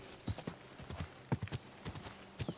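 Horse hooves in a medieval fighting video game, a quick irregular clatter of clip-clop footfalls, close and fairly faint, with no talking over them.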